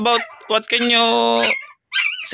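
A puppy whimpers in a high, drawn-out whine with short yips around it. The sounds are loud and close, and there is a brief silence before a final cry.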